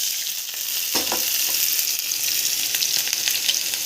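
Onion tossed into hot oil in a pan for a cabbage-potato gravy, a loud steady sizzle with a brief sharper burst as the onion drops in, continuing evenly.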